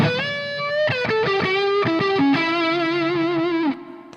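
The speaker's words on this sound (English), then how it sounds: "it's a nice, rich and fat tube overdrive" An overdriven electric guitar through a tube amp rings out a rich, fat run of sustained distorted notes and chords, loud and close with no talk, before the sound cuts off abruptly near the end.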